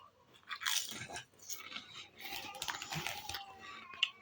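Someone bites into and chews a crunchy snack from a packet they've just opened, with sharp, close, irregular crunches and a faint crinkle of the packaging.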